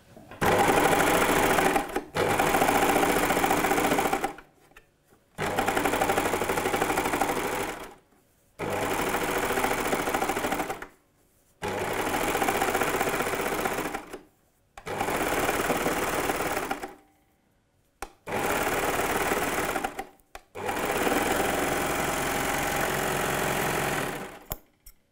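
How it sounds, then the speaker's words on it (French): A sewing machine runs in bursts while overcasting a seam allowance on a kimono-style blouse, stitching in about seven sustained runs of a few seconds each with short pauses between, close and steady. "Soit vous le faites à la machine, soit vous le faites à la surjeteuse si vous en avez une."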